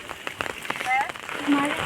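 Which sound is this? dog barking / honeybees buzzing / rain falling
rain falling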